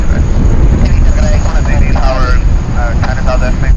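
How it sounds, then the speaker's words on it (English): An Atlas Air Boeing 747-400 touches down on runway 16 right, a loud, broad, continuous roar of the airliner, with radio chatter layered over it. "Nice way to kick off a new video with an Atlas Air 747-400. Just touching down there on runway 16 right."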